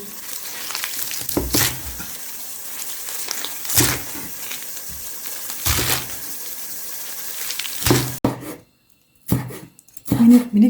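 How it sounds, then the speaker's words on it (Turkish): Knife chopping fresh spinach leaves on a cutting board, a few sharp separate strokes spread out, with soft rustling and scraping between them and a brief quiet pause near the end. "Şimdi de ıspanaklarımızı doğruyoruz."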